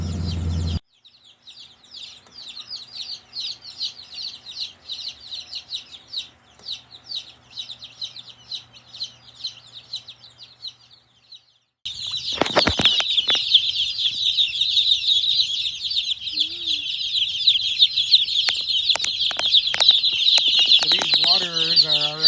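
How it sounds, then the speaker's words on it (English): A flock of 131 young meat-bird chickens cheeps constantly in dense, high overlapping peeps. The chorus is moderate at first, then turns much louder and closer partway through, with a few low knocks and rustles. "You can hear them being all cheep, cheep, cheep, cheep, cheepy."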